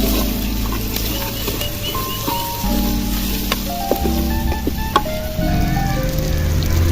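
Asafoetida and spices sautéing in hot oil, heard as a close, continuous crackling sizzle with scattered pops, while a steady tonal hum runs underneath.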